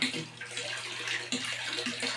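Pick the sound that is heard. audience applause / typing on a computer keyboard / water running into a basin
water running into a basin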